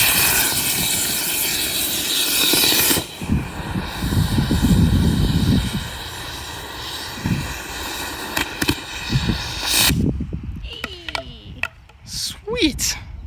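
A VIPER rocket engine test fires at full thrust with a loud, roaring, broadband blast lasting several seconds that cuts off abruptly, followed by quieter sounds and a few brief voices nearby.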